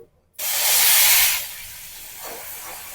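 Boondi batter for motichoor laddu hits hot deep-frying oil in a kadai, and a loud sizzling hiss starts after a short silence. The sizzle fades after a second to a steady, softer frying crackle.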